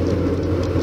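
A Chevrolet Beat NB LS cruising at 90 km/h gives off a low, steady engine drone at about 3000 rpm, heard from inside the cabin as a constant hum with no talk over it.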